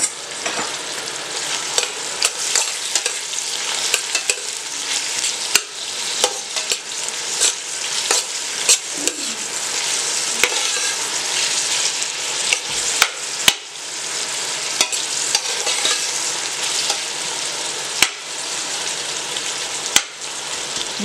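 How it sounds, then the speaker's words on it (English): Onion sautéing in a pot for Afghan beef stew (shorwa), a loud, continuous sizzle with occasional stirring clicks and scrapes, close up and steady throughout with no talking. "We're gonna saute the onion until all the onion cook well."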